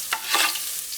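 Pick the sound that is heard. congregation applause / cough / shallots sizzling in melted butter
shallots sizzling in melted butter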